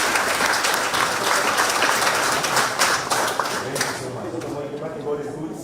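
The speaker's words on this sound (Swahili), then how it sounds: "Tupigie mheshimiwa makofi mazuri." A crowd applauds MP Ndindi Nyoro, with loud, dense clapping that carries on steadily and then eases off slightly at the end. Voices and cheers mix in.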